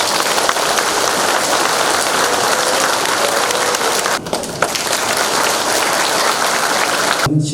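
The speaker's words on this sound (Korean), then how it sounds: "강석주 시장님께 뜨거운 축하의 박수를 부탁드리겠습니다" Sustained, dense applause from the audience at the inauguration ceremony of Tongyeong mayor Kang Seok-ju, a loud even roar that briefly dips midway and then carries on.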